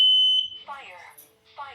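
Household smoke alarm on the first floor sounding during a test, a sharp piercing beep at the start that cuts off, followed by a spoken voice warning.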